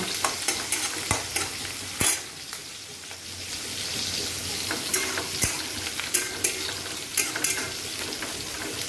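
Onions and pointed gourd frying in a pan at dinner time: a busy, close sizzle full of sharp pops and spatters, with stirring clatter now and then and no talking.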